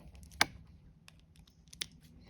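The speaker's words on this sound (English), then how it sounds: "you can go ahead and cut off your string" Scissors snipping through string on a kandi bead star, heard as two sharp close clicks about a second and a half apart, otherwise quiet with faint handling ticks.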